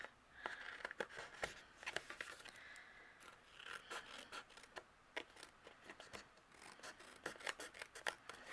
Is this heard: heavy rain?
no